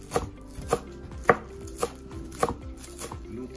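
A knife chopping spring onions on a cutting board for beef wonton noodle soup, six crisp separate chops spaced about half a second apart, close by and heard alone.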